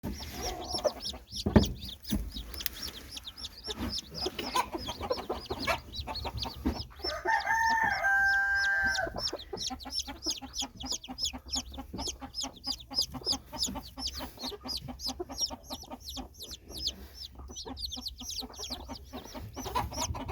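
Chickens clucking and chattering continuously up close, with a brief higher crowing call partway through and scattered rustling; a broody hen with day-old chicks.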